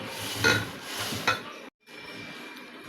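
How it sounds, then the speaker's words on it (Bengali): Shing fish being mixed by hand with salt, turmeric, chili powder and spices in a bowl, giving soft wet squelching and scraping with a couple of sharper clinks of the dish, close and fairly quiet, with a brief silent gap. "এখন আমি মাছগুলি মাখাবো"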